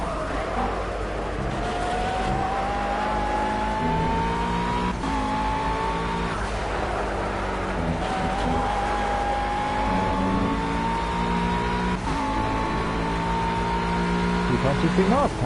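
A McLaren GT3 race car at Laguna Seca revs through its gears with a rising, whining engine note and repeated upshifts, while a commentator talks over the steady track noise.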